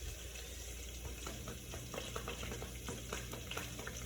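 Bacon fries in a pan with a steady, close sizzle and scattered small pops and crackles, and no talking.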